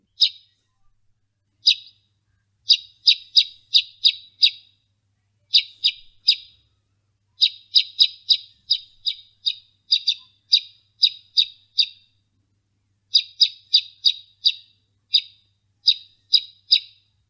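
Baya weaver bird calls ring out as clear, rapid bursts of high, buzzy chirps in quick clusters separated by short pauses, loud and close against near silence.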